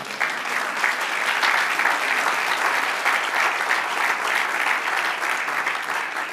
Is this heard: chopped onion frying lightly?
no